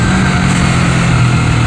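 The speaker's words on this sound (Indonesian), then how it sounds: "Jadi yang kedengar di telingaku adalah suara mesinnya." A Honda CBR250RR engine fitted with a 3Tech Evox X5 silent black exhaust runs steadily and fairly loud, a continuous low engine drone with no rev changes and no talk.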